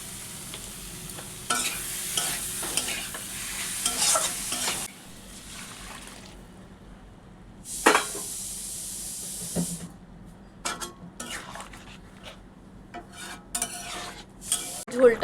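Curry sautés in a pan with loud bursts of sizzling and steam hiss, then quieter stretches of repeated scraping stirs and clinks, close by.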